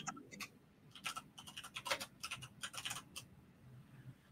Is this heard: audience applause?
no